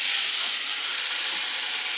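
Chicken stock poured into a hot pan of browned rice and diced tomato sends up a loud, steady steam hiss, close and continuous with no talking.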